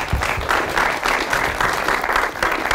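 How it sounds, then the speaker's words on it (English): Audience applause after a talk, a steady rippling patter of many hands clapping for the whole stretch, moderately loud, with no speech over it. "Have a round of applause."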